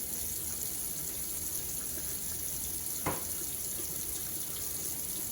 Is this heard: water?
yes